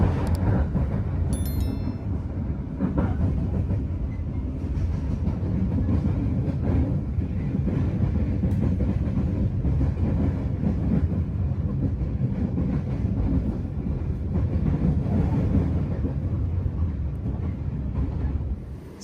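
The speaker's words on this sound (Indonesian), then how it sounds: "Kereta api Pasundan sudah tiba di stasiun Tasikmalaya" Pasundan economy train arriving at Tasikmalaya station, heard as a steady loud rumble with rail clatter and wind throughout, no talk.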